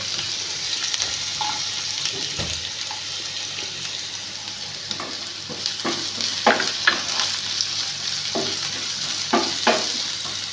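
Chopped onions and garlic frying in a pan, a steady close sizzle under repeated scraping stirs and clacks that grow busier in the second half.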